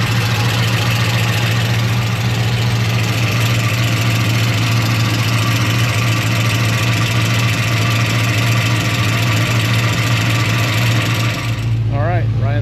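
A supercharged Chevy 1500 pickup engine runs at a steady, loud idle with a strong low hum and a constant whine, ending abruptly near the close.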